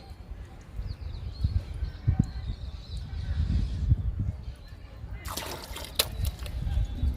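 Water splashes and trickles onto a heap of compost made from green grass for a few seconds, ending in a brighter, louder gush, with low background rumble throughout.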